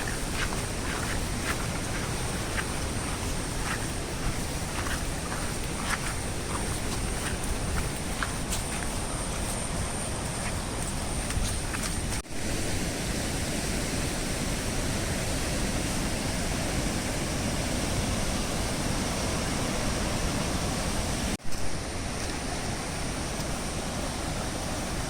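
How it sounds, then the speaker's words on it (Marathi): Steady, dense roar of waterfalls near Aamla village in Suryamal after the rains, a continuous broadband rush heard from fairly close with no talk over it. "वर पण 2 धबधबे आहेत पण जायला रस्ता नाही वर"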